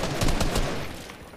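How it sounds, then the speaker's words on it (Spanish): Gunfire in the video game Fortnite comes as a dense, noisy burst of rapid shots, loud and continuous for over a second before easing slightly. "Está disparando."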